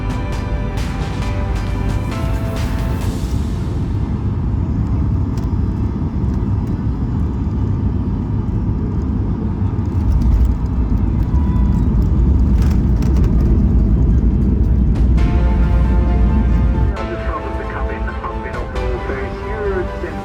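Steady, loud airliner cabin roar during the descent into Krakow, a continuous engine and airflow rumble that shifts in tone partway through, with faint clicks and rattles.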